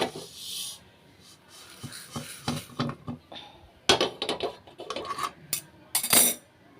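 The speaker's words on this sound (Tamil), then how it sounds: "பாசிப்பருப்பும் பாருங்கள் நல்லா வறுத்தாச்சு அதையும் வேறு பாத்திரத்துக்கு மாற்றிக்கிறேன்" Roasted moong dal being scraped and tipped from a pan into another vessel, with metallic clinks and rattling scrapes in irregular bursts, close by and moderately loud.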